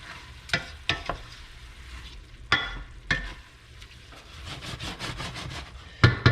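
Stock stirred into seafood risotto rice in a pan, a soft sizzling bubble under repeated scraping spoon strokes and a few sharp knocks against the pan, close by with no talking.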